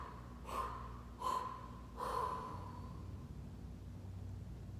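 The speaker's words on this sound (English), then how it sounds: "this time as we exhale, we're gonna exhale five times" Three forceful exhaled breaths during a yoga breathing exercise, sharp nasal puffs spaced about a second apart, close and fairly soft, with no talk.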